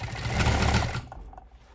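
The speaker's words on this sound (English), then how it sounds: "we use an industrial cover stitch sewing machine that creates a stitch pattern" An industrial cover stitch sewing machine hemming a t-shirt runs in a fast mechanical whir for about a second, then stops, leaving faint clicks.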